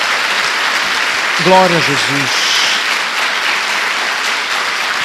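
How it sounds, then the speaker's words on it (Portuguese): Congregation applause fills a church service, a broad steady wash of clapping with a voice speaking briefly over it. "Dê uma salva de palmas ao nosso Senhor."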